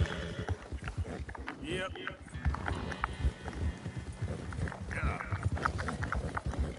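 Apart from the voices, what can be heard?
horse hooves clip-clopping in a video game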